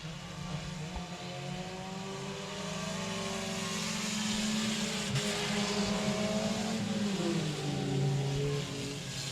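Race cars circling the oval at 67 Speedway of Texarkana, their engines blending into a sustained, loud droning roar that rises and falls slightly in pitch as the pack moves along the back straightaway.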